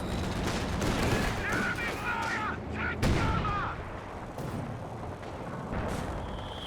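Cannon and gunfire in the Company of Heroes 2 strategy game crackle as a dense barrage of shots and booms, mixed with voices talking over the battle.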